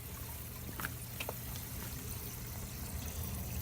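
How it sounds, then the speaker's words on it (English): Pumped water from an aquaponics system trickling and pouring steadily through grow pipes, a continuous low-level flow with a few faint drips, no talk. "that is a pump that feeds the water up that black pipe into these grow pipes"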